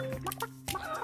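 Chickens cluck in a barn in the video game Burly Men at Sea, a few short close calls in quick succession with no talking over them.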